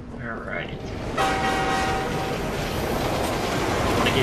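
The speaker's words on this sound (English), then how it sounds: "wanna get hit by the train" A metro train in the game Assassin's Creed Unity arrives with a sudden loud rush and a sustained horn tone, then rumbles on steadily through an underground station.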